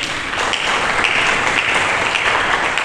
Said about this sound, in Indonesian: Tepuk tangan yang meriah bagi dia.